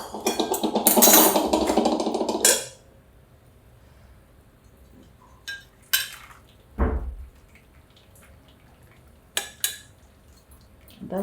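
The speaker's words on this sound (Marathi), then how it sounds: "झालं आता चाळणीमध्ये ओतते, गॅस बंद करते." Boiled mixed leafy greens and their water pour into a strainer in a loud rushing splash lasting a couple of seconds, followed by sparse close clinks and knocks of metal utensils.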